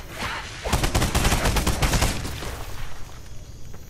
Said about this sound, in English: I'll press 2 and switch to the mounted gun